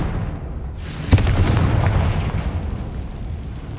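A Confringo fire spell bursts in Hogwarts Legacy, a loud booming explosion that hits once and then rolls into a long, dense rumble that stays high in level and fades only slowly.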